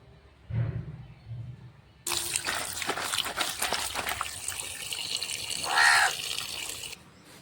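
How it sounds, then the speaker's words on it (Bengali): Water splashes and trickles while fish are washed in a village home kitchen, a steady wet rush beginning abruptly after a quieter stretch, with a louder slosh near the end. "চলো তাহলে মাছ ধুয়ে নিয়ে আসি।"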